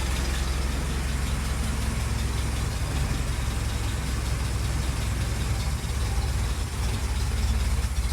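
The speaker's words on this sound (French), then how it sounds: "Et en plus, elle tourne, mais juste super rond. Même le ralenti, regardez, touche à rien." A Willys jeep engine idling after being restarted following fifteen years without running, a steady, even low rumble that holds close and unbroken throughout with no talking over it.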